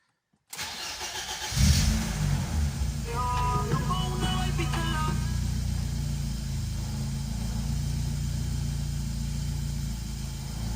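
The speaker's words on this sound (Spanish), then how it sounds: "Vamos a probar si el coche arranca." BMW E30 engine cranking and catching after a spark plug change, then settling into a steady, close idle with a low rumble echoing inside a garage.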